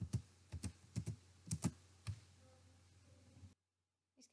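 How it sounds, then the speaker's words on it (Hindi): Keystrokes on a computer keyboard typing a switch configuration command, about eight distinct clicks in an irregular rhythm over a low steady hum, close and clear, then silence. "तो मैं लिखती हूँ अनेबल"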